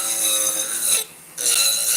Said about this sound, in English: this little flame burr is working pretty good